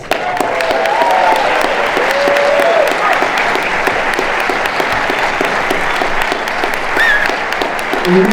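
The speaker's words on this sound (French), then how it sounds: "Et vous pouvez aussi applaudir à Asimos." Loud, dense applause from a cinema audience fills the hall at a film premiere, continuous and close throughout, with faint voices and whistles rising through the clapping.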